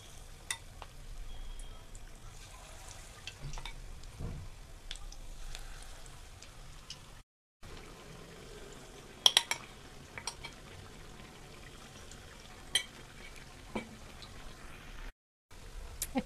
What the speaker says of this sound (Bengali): বাকি যেটা আছে সেটা সেম প্রসেসে একই রকমভাবে ফ্রাই করে নেবো।